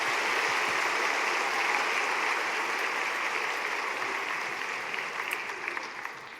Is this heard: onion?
no